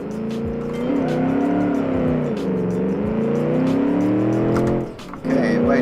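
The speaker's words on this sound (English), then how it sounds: "The Vision sports car. A nice V8." A V8-powered Vision sports car in a racing game accelerates on the Road Atlanta circuit. The loud engine note climbs steadily through the gears with brief dips at the shifts, and faint tyre sounds come through underneath.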